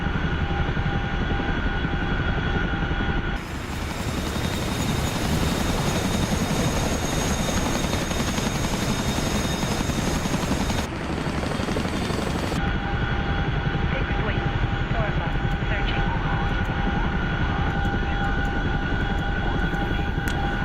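Big military workhorse helicopters from a video game, a steady loud rotor and engine roar droning on throughout, with some voice chatter underneath.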